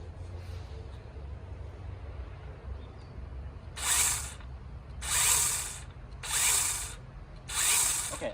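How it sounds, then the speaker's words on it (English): A DeWalt DCPS620B 20V cordless compact pole saw with an 8-inch bar runs in four short bursts, each a loud whirring rev that quickly spins up and dies away, over a quiet outdoor background. "Let's try with this DeWalt saw."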